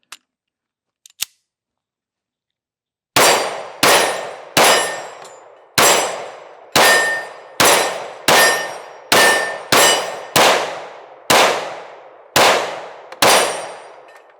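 Twelve sharp pistol gunshots from a Smith & Wesson Shield Plus Carry Comp, fired at a steady pace with ringing decays, preceded by a few faint clicks of handling; loud and close, with no talking.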